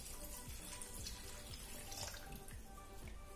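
Thin coconut milk poured into a pan of mango curry, a steady liquid splashing and trickling stream running throughout, close and moderately loud with no talk.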